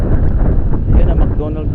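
Strong gusts buffet the microphone outdoors in Rapid City, South Dakota, a loud, continuous low rumble filling the short stretch with no break.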